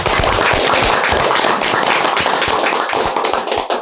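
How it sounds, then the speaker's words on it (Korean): A crowd at a political party gathering claps loudly and steadily, a dense wash of many hands that fills the whole stretch with no voices over it. "그분들한테도 박수를 좀 드립니다"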